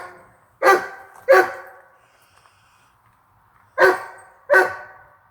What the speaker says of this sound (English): The dog likes it too